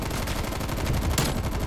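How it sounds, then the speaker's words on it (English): Rapid automatic gunfire from a video game gun rattles continuously and loudly, a dense string of closely spaced shots with no pauses. "You can just pre-fire so easily with this gun."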